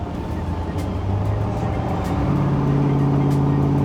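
A 1967 Chevrolet Corvette big block drives along with a steady, continuous engine rumble close by, the drone holding even throughout.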